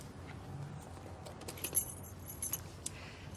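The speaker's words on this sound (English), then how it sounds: "Tommy, give her the keys. Front pocket" Keys jangle and clink softly as they are handed over during a police scene in a flat. The metallic chinks are faint and scattered over a low background hiss.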